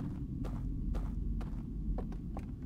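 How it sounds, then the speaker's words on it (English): Footsteps approach in the video game Outer Wilds: Echoes of the Eye, evenly spaced heavy thuds over a deep rumbling drone, each step landing about half a second apart. "I can feel the footsteps coming towards me"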